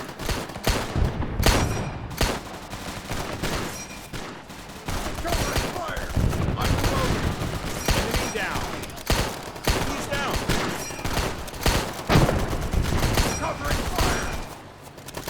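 Dense M1 Garand rifle fire mixed with other gunfire and machine-gun bursts in the WW2 shooter Easy Red 2, sharp repeated cracks crowding one another over a continuous loud battle din.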